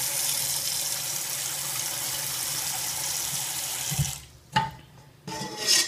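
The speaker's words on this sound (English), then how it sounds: "First, we are going to fill our pan with some water." Water runs from a kitchen tap into a cooking pan in a steady, bright hiss that fills most of the stretch, then cuts off and returns in brief splashy bursts near the end; no one speaks.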